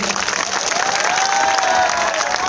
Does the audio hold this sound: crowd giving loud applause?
yes